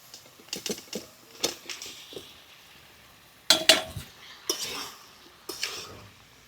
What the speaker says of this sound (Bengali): পনির আলুটা মশলার সাথে কষিয়ে নিয়েছি